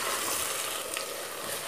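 Green chilli and garlic sizzle steadily in hot oil while being stirred for a chicken biryani, a dense continuous frying hiss with faint scraping, close and alone.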